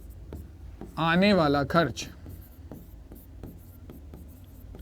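A pen scratching an answer onto paper in short repeated strokes, close and quiet, with a brief spoken phrase partway through.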